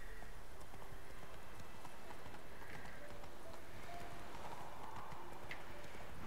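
Hooves of Roach, the horse in The Witcher 3 video game, clip-clop steadily at a modest pace, faint beneath a constant wash of game ambience with no talk.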